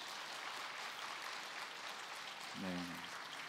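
Church congregation applauding, a steady dense patter of clapping filling the room throughout, with a brief voice or tone rising near the end.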